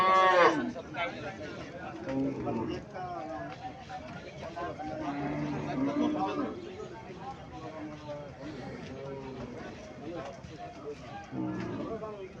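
Cattle moo intermittently at a busy cattle market, the lowing mixed with people talking and bargaining nearby, with a brief shuffling of hooves amid the crowd noise.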